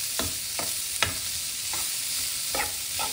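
A vegetable masala filling sizzles steadily in a pan while a spoon stirs it, giving several sharp scraping strokes at an uneven pace over the constant frying hiss.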